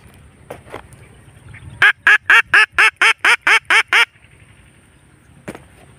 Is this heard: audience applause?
no